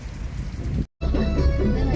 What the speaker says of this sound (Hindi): द्यो में ही निकलेंगे, यानी बारिश में निकलेंगे।